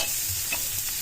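A bean sprout lumpia filling with bell pepper and green chili is stirred in a sizzling pan, a close, continuous frying hiss with soft scraping strokes and no voices.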